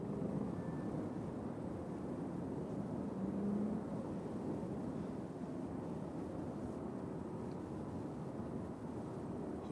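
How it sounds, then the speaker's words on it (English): Steady low rumbling drone of a helicopter in the distance near Nashville International Airport, continuous and fairly even throughout, with faint wind noise and no voices. "I hear a helicopter."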